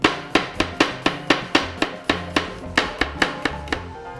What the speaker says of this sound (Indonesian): Saya akan merajang dulu bawang putih 4 siung.